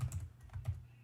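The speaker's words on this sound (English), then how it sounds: "But if I could type it, Rufus" Quick, close clicks of fingers typing on a computer keyboard, a short burst of several keystrokes in an uneven rhythm with no voice.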